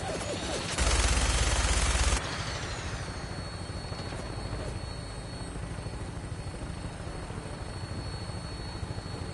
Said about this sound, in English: Helicopter on site.